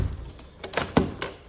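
A house door being locked during an open-house tour: a few hard clunks and thunks of the latch and bolt, close and moderately loud, spaced across a second and a half.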